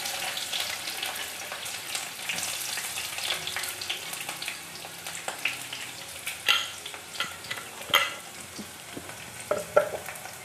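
Sliced onion goes into hot oil in a clay pot and sizzles steadily, with a spatula stirring and scraping in short bursts against the pot, close and alone.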